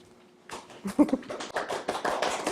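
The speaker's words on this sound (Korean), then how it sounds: "셀프 박수." A woman applauds herself at a book talk, a short burst of hand claps rising after a brief quiet start, close and moderately loud with faint voice traces.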